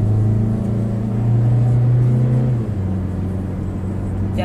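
A 2016 Mazda CX-3 accelerating from inside the cabin, a steady low engine drone rising gradually in pitch over a smooth road rumble, fairly quiet and continuous with no talking.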